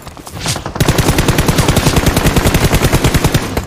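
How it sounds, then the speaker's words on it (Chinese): Rapid automatic gunfire from a video game, a tight rhythmic burst of evenly spaced loud shots running for several seconds after a brief swelling sound. "350有枪声"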